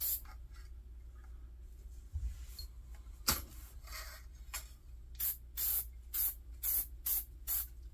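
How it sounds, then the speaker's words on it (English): Lubricant sprayed onto the bolt and action bar of a Remington 1100 shotgun: a series of short, sharp aerosol hisses in quick succession near the end, close and moderately loud, after quieter handling noises with no talking. "Spray my bolt down"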